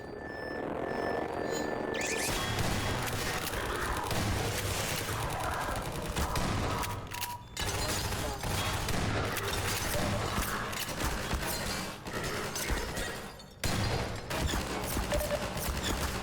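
Automated turrets firing in Half-Life 2, dense bursts of rapid gunfire rattling almost continuously and loudly, with brief pauses between volleys and mechanical clatter mixed in.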